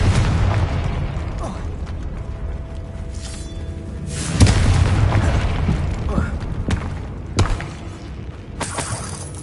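Confringo blasting spell explosions in the video game Hogwarts Legacy: several deep booming blasts with crackling debris and shattering bursts, including a heavy hit midway and another near the end, over rumbling game ambience.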